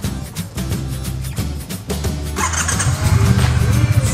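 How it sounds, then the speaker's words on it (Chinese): A Triumph T120 motorcycle engine idling with a low uneven rumble, then revved harder so the roar swells and stays loud nearby, inside a heavy motorcycle shop. "目前凯旋非常热卖的 T120 自带，想不想听听看它的引擎声音呢？ 很震撼哦！"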